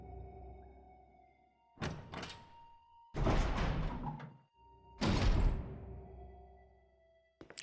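A door opening in the game Resident Evil HD Remaster, heard as three heavy mechanical thuds and scraping slides spaced a second or so apart over a low ambient hum, ending in a sharp click.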